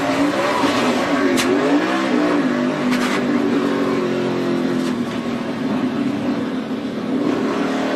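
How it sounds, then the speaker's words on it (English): A NASCAR race car at Daytona during the 2014 Sprint Unlimited howls at very high RPM, its loud engine note rising and falling steadily throughout with a faint tire squeal. "Hope he didn't hurt that engine as he grabbed third gear and that thing turned, oh, about five figures worth of RPM"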